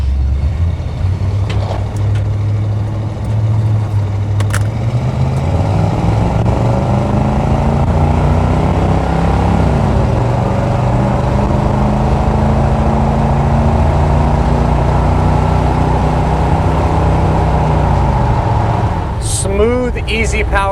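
A 1978 Chevrolet C10 with its original 350 engine accelerates from inside the cab, a loud low rumble rising in pitch, easing at a smooth shift, then climbing again.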